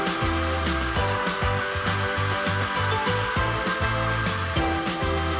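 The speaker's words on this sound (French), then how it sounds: "Une fois que toute la chaussure est recouverte, passe-les sous un sèche-cheveux." A hair dryer blowing on canvas shoes coated in candle wax to melt it into the fabric; a steady whirring hum with a rhythmic, repeating pulsing pattern throughout, close and continuous.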